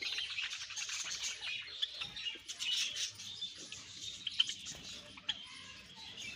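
A colony of young birds, grown chicks kept as a breeding flock, chirps and tweets continuously at a moderate distance, forming a faint, busy chatter with occasional sharper calls.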